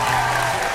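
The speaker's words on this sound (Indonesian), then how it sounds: "Boleh tepuk tangan untuk beliau" Studio audience applause welcoming a government director onto an Indonesian talk show, a short dense wash of clapping throughout.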